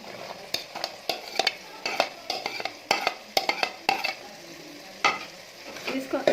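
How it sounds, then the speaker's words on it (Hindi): Chopped vegetables sizzle in a pan with chicken and are stirred with quick, repeated scraping strokes against the pan over a constant frying crackle. "अब वो मैं सारी इसमें डाल रही हूँ।"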